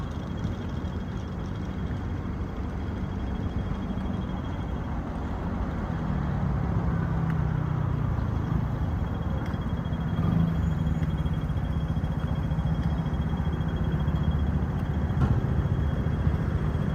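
Steady road traffic rumble, mostly low engine drone from cars and heavier vehicles passing at a moderate distance, swelling slightly louder midway and holding as a continuous wash with no talk over it.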